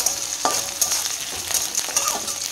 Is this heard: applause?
no